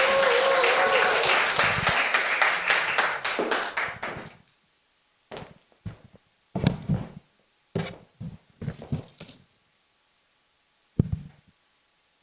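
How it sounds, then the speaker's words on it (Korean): A church congregation applauds during a Sunday service, dense clapping for about four seconds that then stops abruptly, followed by a few scattered taps and thumps. "우리 박수 한번 해 주시죠."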